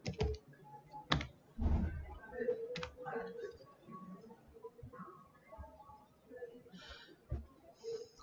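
Computer keyboard on a Windows PC, with faint, scattered keystrokes and clicks in short sparse bursts over a quiet room background.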